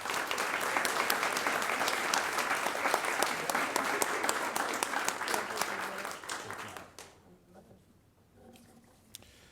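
Audience applause for award recipients at a school board recognition event, a loud, dense spread of clapping that holds steady for several seconds before tapering off into a quiet room with scattered last claps.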